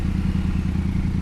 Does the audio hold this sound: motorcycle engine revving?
yes